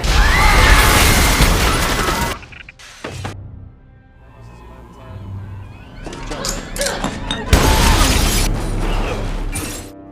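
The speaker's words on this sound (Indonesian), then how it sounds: "dia melihat sebuah granat dan kemudian terjadi ledakan" A grenade explodes in an action film, a loud burst with shattering debris that drops into a rumbling lull before heavy noise and clattering return, with voices mixed in.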